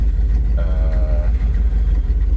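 A squarebody truck with cracked exhausts runs rough, its engine a loud, close, steady low rumble with a faint brief whine partway through, no talking.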